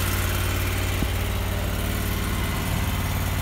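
The engine of a Schweiss 5020 zero turn mower with a 54 inch deck runs at a steady, close idle, a constant droning rumble with no breaks.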